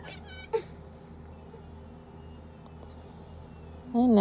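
A house cat meows twice, a short cry near the start and another at the very end, over a quiet room with a low background hum.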